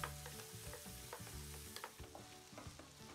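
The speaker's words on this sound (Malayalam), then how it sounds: "ആ സെയിം നെയ്യിൽ തന്നെ നമ്മുടെ നേരത്തെ കട്ട് ചെയ്ത് വെച്ചേക്കുന്ന ഏത്തപ്പഴവും കൂടി ഒന്ന് വാട്ടിയെടുക്കുക" Ripe plantain slices sauté in ghee in a pan, giving a steady soft sizzle broken by frequent clinks and scrapes of a stirring spoon, close up and with no talk.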